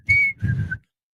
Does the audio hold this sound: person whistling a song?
yes